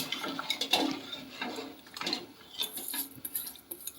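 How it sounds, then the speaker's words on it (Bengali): Rice and milk for khejur gur payesh are stirred in a pot, giving soft, wet scraping and light metallic clinks of a spoon against the pan in an uneven rhythm, fairly quiet and close. "এরকম এরকম নাড়িয়ে রাখতে হবে"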